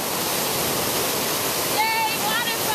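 Steady broadband rush of a waterfall seen on a coastal waterfall tour, loud and continuous throughout, with faint whistles or cheers rising over it near the end.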